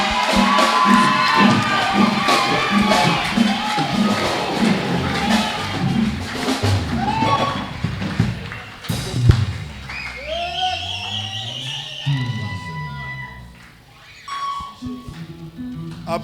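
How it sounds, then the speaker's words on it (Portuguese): A congregation in a church service cheers, shouts and applauds loudly for several seconds, with voices and singing mixed in, then settles into quieter talk and scattered noise. "aplaudimos para a glória do Senhor Jesus."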